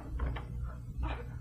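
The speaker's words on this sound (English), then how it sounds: "Quick, Sam, open the door." A door in a radio drama detective's office on the 15th floor is pulled open, giving a couple of soft wooden knocks and thunks at moderate distance with no talk.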